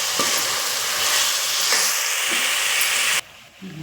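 Spring onion sautés and is stirred in hot oil for dal khichdi, with a dense crackling sizzle that cuts off abruptly near the end.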